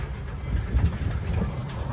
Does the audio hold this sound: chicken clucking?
no